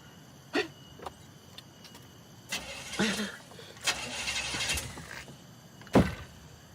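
A car engine in an Indonesian horror film cranks in short, uneven bursts and sputters without catching, stalling between attempts, with a few sharp clunks and no talking.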